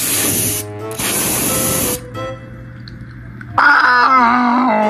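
Foot spray hisses from an aerosol can in two bursts of roughly a second each, close and fairly loud. A brief high electronic tone and other noises follow.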